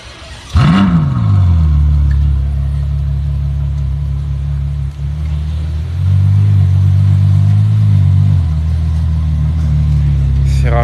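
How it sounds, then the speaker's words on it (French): A Ferrari GTC4 Lusso fires up with a sharp starter whine and bark, then settles into a loud, deep idle close by, swelling once into a brief rev before dropping back to a steady rumble. "Non, il la laisse comme ça, la GTC 4 Lusso. Ouais, non, il va la démarrer."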